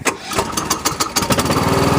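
A Cub Cadet LTX1040 lawn tractor engine catches on a single pull, sputtering briefly before settling into a steady, loud, close-up running chug with no talking.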